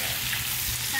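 Rohu fish heads frying in hot oil for a mountain-style bamboo shoot curry, a brief, steady, close sizzle.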